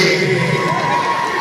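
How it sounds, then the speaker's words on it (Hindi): Crowd cheering and shouting at a cattle show in Peshawar's Colonel Sher Khan Stadium, a loud continuous mass of voices filling the space throughout. "भाई सरदार अली यकीन खान के लिए जोरदार तालियां"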